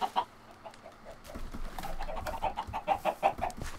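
Chickens in the video game Minecraft cluck in a quick, uneven series of short, close clucks at a moderate level, with no voices.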